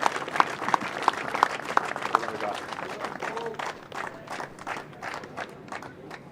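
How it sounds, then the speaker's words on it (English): Audience applause at a bowls national championship after a defending champion exits a semi-final, with a few sharp claps standing out near the start before a steadier, moderate clapping continues and gradually thins. "Big round of applause to Paul White."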